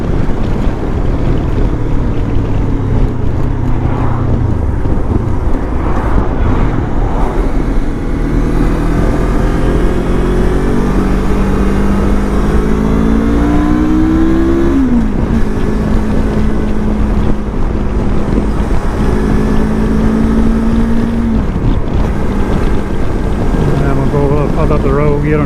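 Lifan KPT 400 motorcycle cruising in fourth gear on a road, steady engine drone with gradually rising pitch and a shift partway through, heavy wind noise throughout.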